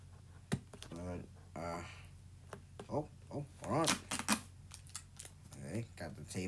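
Packing tape being pulled off the box of an Xbox wireless headset, heard as scratchy tearing and crackling bursts close to the microphone, with people talking throughout.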